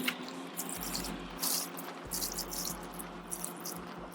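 Water splashes and trickles steadily onto food plants growing in bags outdoors, with uneven pattering and dripping surges close by, no talking.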